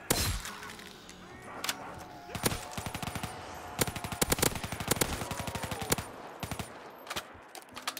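Rapid automatic fire from an upgraded gun in Black Ops 3 custom zombies, loud close bursts of quick shots with short gaps, mixed with sharp cracks and breaking impacts.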